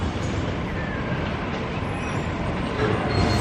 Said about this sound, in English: Today we are using the train for the first time